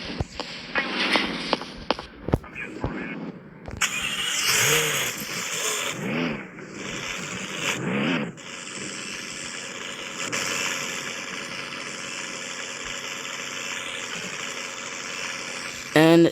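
Car engine in a video game, revving in repeated rising and falling sweeps, then settling into a steadier hum alongside game sounds, with talk over parts of it.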